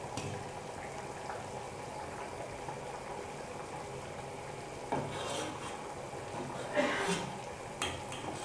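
Traditional Tunisian smen, salted clarified butter, simmering in a pot after twenty minutes of boiling, a steady low bubbling texture throughout with a few clinks of utensils against the pot near the end.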